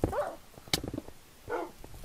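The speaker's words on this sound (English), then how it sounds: "Let's let my dogs finish them off." Tamed dogs in Minecraft during a survival games match, giving two or three short yipping barks close by, separated by a sharp hit sound.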